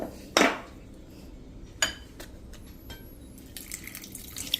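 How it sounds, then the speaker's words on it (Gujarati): Water being poured and fenugreek fritter batter stirred in a bowl, heard as quiet splashes, clinks of a utensil against the dish and soft scraping, intermittent and close, with no talking. "હવે આમાં આપણે 1 કપ પાણી અત્યારે નાખીને અને એનો સરસ ઘોર તૈયાર કરી લેશું"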